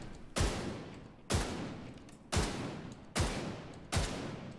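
The Bighorn exotic assault rifle in The Division 2 fires five heavy, booming single shots at an even pace about one second apart, each ringing out with a long decaying tail, loud and close with no voices.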